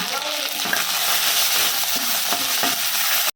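Cumin, mustard seeds, garlic and green chilli sizzle and crackle in hot oil for a tempering, a close, steady frying hiss with occasional pops and stirring scrapes, and no voices.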